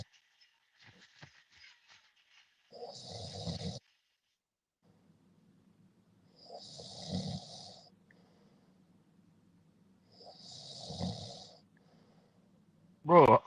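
A person snoring in three long, rasping inhalations spaced a few seconds apart, heard faintly as if over a phone or stream, with quiet pauses between and a sharp noise at the end.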